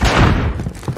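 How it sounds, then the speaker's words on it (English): A grenade goes off in Call of Duty Modern Warfare Warzone, one heavy close blast with a deep thud that fades into a rumbling tail. "Grenade out!"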